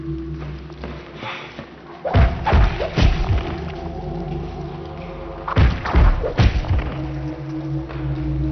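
Claw attacks from the video game Blood Omen 2 land as heavy, punchy thuds, a cluster of three or four strikes followed by another volley, each hit booming low over a steady ambient game drone.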